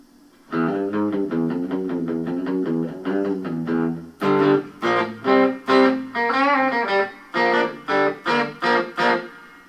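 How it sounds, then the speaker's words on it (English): An electric guitar plays through a Peavey amp into a mixer, first a run of quick plucked notes, then louder strummed chords, each ringing out with a reverberant tail from the mixer's reverb. "Now the reverb you're hearing is only coming from the soundboard."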